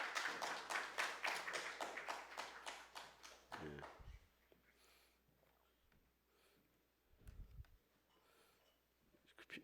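A church congregation claps to welcome two singers for a special hymn, brisk clapping for a few seconds that stops abruptly, leaving a quiet room with faint rustles and a brief low thump.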